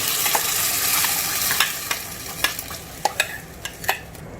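Ground masala paste sizzles and fries in hot oil while a spoon stirs it, a steady crackling hiss broken by sharp scraping clicks of the utensil against the pan, close and continuous without talk.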